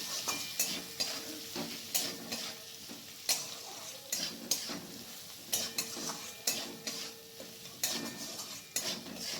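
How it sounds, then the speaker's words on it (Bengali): Spoon stirring raw mango chutney with turmeric, Kashmiri chilli powder and spices in a hot pan, producing a steady sizzle with repeated scraping strokes and light clinks of utensil against metal, close and alone. "এরপর আমি আবার একটু নাড়াচাড়া করে নিচ্ছি"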